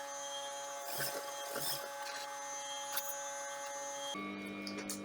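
A sewing machine runs steadily while stitching down a fabric strap, a close mechanical whir with a few brief clicks and soft knocks, the motor tone shifting near the end.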